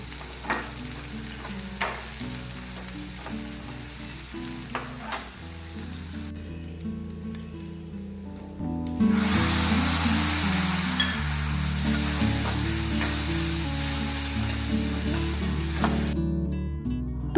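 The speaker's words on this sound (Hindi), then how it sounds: "ऑयल गरम हो गया था, तो राई जीरा मेथी डाल के कड़ी पत्ता, लहसुन और हरी मिर्च को जो कूट के रखे थे वो डाल दिया है" Mustard seeds, cumin, fenugreek, curry leaves, crushed garlic and green chillies crackle in hot oil with a steady, close hiss that surges louder partway through as more goes into the pan, with stirring scrapes throughout.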